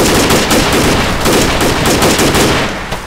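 Sustained automatic machine gun fire in the military video game ARMA 3, loud and continuous with rapid overlapping bursts for about three seconds, easing slightly near the end.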